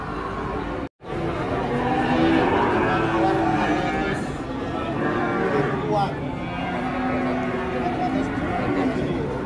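Sacrificial cattle unloaded from a truck moo amid a busy, noisy crowd, with loud overlapping chatter and voices running through the whole stretch and lowing calls rising in and out of the din.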